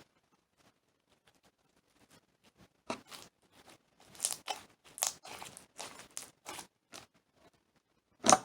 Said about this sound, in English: This slime is a very good poker. And it's really crunchy.